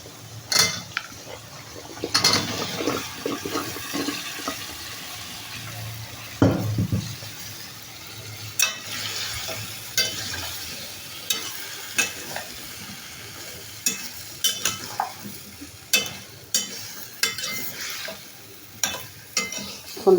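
Cauliflower, flat beans, potato, tomato and eggplant are stirred into well-fried spice paste in a hot pan, giving repeated scraping clacks of the spoon over a steady sizzle, with no talking.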